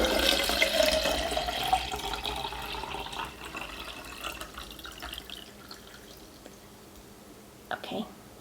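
Water poured steadily into a 24oz Simple Modern Classic tumbler, a continuous splashing stream that thins and fades over several seconds, followed by a few faint clinks near the end.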